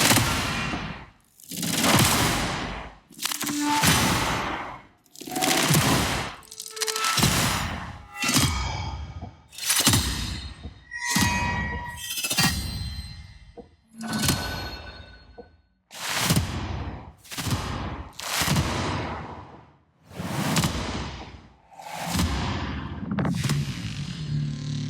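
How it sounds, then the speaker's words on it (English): Cinematic trailer hit sound effects from the Ascent plugin, about fifteen loud booming impacts fired one after another, each with a sharp attack and a decaying metallic, gritty tail, spaced a second or two apart with short silences between. "Trailer hits."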